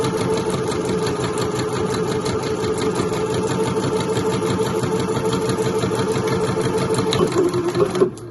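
Sewing machine stitching lines through a quilted bag lining of fabric fused to fleece, a steady loud rapid mechanical whirr with fast rhythmic needle clatter throughout, close up and alone.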